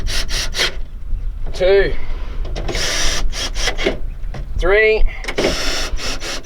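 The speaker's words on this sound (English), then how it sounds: "Remember, 10mm screw gun. Tighten it up, nice and tight." Power screw gun with a 10mm drive tightening screws into a Ford Territory SX/SY door during a window regulator replacement, several short whirring bursts in a row, close by, with someone speaking between them.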